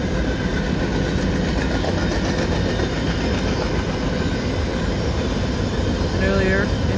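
A CN freight train rolls steadily past in London, Ontario, a loud continuous rumble of wheels and cars with rail clatter throughout and a brief wheel squeal near the end of the train.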